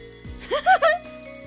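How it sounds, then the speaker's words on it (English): A muffled alarm clock bell rings in a sleepy bedroom scene from the visual novel game Kanon, a short bright ringing burst of a few quick strikes heard up close over a quiet background hum. "The muffled bell sound echoes inside my sleepy head."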